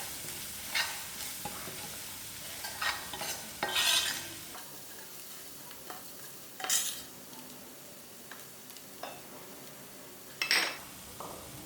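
Masala with curry leaves cooking in a pan, a soft continuous sizzle under repeated utensil scrapes and clinks from stirring, heard close and fairly quiet, with no talking.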